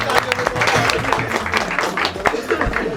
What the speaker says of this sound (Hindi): ताली ताली दो एक बार